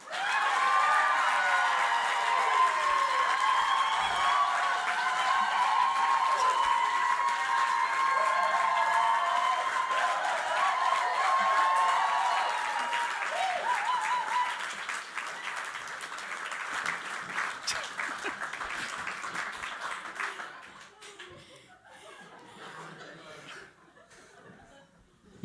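Live podcast audience applauding and laughing as guests are welcomed on stage, a full sustained wave of clapping with chuckles mixed in that gradually thins out and fades.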